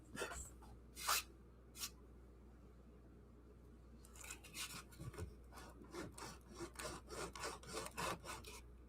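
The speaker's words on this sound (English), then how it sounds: "I've got the sandpaper bent this way, like this, and holding it tight against that edge and going back and forth. So I sand this little putty area." Bent sandpaper rasps back and forth over a small patch of putty on a model railway layout, giving short, soft scratchy strokes in irregular bursts, quiet and near, with pauses between.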